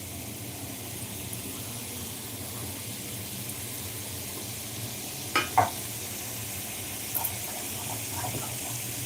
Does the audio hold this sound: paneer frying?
yes